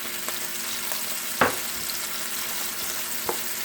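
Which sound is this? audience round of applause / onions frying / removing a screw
onions frying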